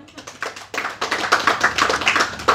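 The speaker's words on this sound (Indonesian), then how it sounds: "Tepuk tangan." Audience applause during a religious lecture, sharp claps from a small group starting sparse and quickly building into dense, lively clapping close by.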